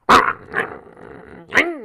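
Small dog giving two or three sharp, close barks with a low growl between them, loud and alone.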